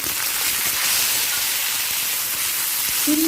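Cashews and raisins frying in oil on a low flame, a steady bright sizzling hiss throughout, close and even.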